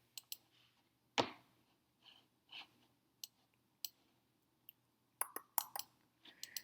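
Sharp, close computer mouse clicks come singly and in quick pairs, scattered irregularly across a quiet background, with one heavier thump early on and a small burst of clicks toward the end.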